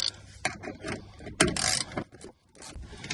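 A ratchet wrench clicks as it loosens 10mm bolts on the door of a third-generation Honda Odyssey, with quick bursts of ratcheting and metal scraping sounding close and fairly quiet, with no talking.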